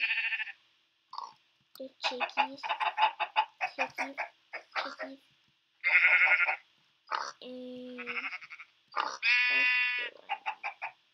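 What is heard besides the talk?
sheep bleating in Minecraft video game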